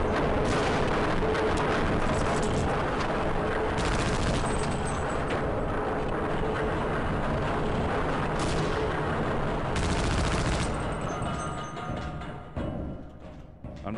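Constant loud gunfire and explosive blasts from shooting enemies in the video game Half-Life: Opposing Force, dense and unbroken for the whole stretch before easing slightly near the end.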